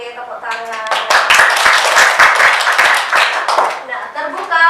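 Students in a classroom clap in sharp, quick bursts mixed with loud overlapping voices, the hand claps cutting through the chatter close to the microphone.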